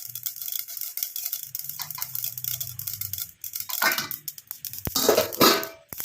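Mustard seeds spluttering and popping in hot oil in a pan, with scattered crackles and bursts of sizzling that grow denser toward the end, heard close with no talking.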